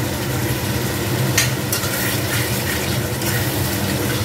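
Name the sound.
fried potatoes added to masala, stirred and sizzling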